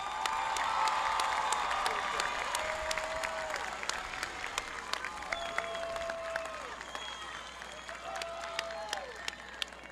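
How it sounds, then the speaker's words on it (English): An audience at a school graduation ceremony applauds and cheers for graduating students, with dense sustained clapping, a few whoops and shouts on top, and the crowd heard at moderate distance. "Please give them a round of applause."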